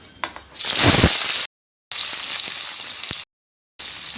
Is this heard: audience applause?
no